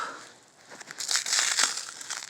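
Crinkly, crackling tape is peeled and pulled off a package for a couple of seconds, growing louder partway through, close by.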